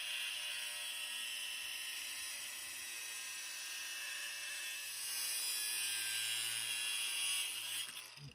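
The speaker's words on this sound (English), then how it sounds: "We're going to cut this here with an angle grinder." An angle grinder cuts steel for a Mercedes R107 SL battery tray bracket, giving a loud, sustained high-pitched metallic whine close by that swells louder toward the end before abruptly dropping off.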